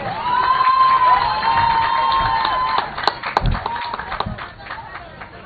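An audience cheers and claps for a visiting team from Lahore at a prize ceremony, crowd noise with a tonal whistle-like sound early on, then scattered clapping and shouts.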